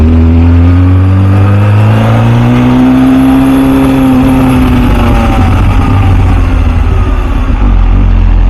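MV Agusta F4 Senna sport motorcycle engine revving hard and close, a loud high-pitched wail that climbs steadily in pitch, then settles into a rough, sustained roar.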